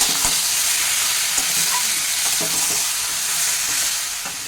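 Chicken with turmeric, red chili powder and ginger is stirred in a hot pan, giving a steady close sizzle broken by scraping spoon strokes, with no talking.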